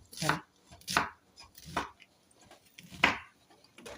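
A knife chops food on a board for a dropped egg side dish, five sharp evenly spaced cuts, close and clear, with no talk.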